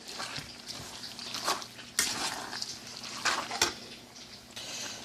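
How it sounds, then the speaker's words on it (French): A spoon stirs macaroni with meat and plenty of sauce in a pot, giving soft scraping with intermittent clinks of metal against the pot at a gentle, irregular pace. "Alors, on mélange bien."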